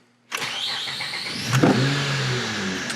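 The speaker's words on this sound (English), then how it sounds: "And this is a cranking compression test." Acura TL 3.5 V6 cranking over on the starter during a compression test, a sudden loud start then a sustained, fairly even churning whir that continues close by with no voices.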